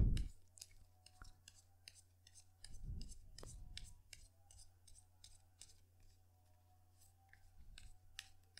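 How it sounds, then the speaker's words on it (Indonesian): Tarot cards shuffled by hand in a quiet room, a run of soft, quick papery clicks and riffles close to the listener, with a steady low hum underneath and no talking. "sebelum dimulai kita kocok dulu kartunya ya"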